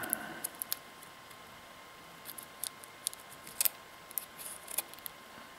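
An old Maxell TC-30 VHS-C camcorder cassette being opened, with faint close plastic clicks, ticks and snaps in scattered bursts over quiet room noise.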